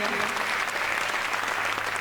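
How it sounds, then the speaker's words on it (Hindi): Dense, steady applause from a crowd at a Hindi kavi sammelan poetry gathering continues loud and even for the whole moment with no break. "जोरदार तालियों से मोहतरमा रजनी सिंह अवनी।"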